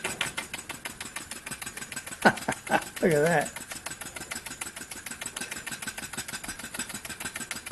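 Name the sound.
model steam engine running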